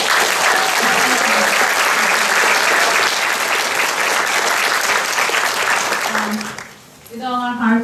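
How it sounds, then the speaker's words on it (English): Graduation audience at a mathematics ceremony applauds, a sustained, loud wash of many hands clapping that fades near the end as a voice begins speaking. "So I would like if you could all give him a hand of applause."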